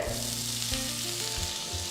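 Mustard seeds crackle and sputter in hot oil while cooking a breakfast dish, a dense sizzling spatter close by, with a low hum underneath.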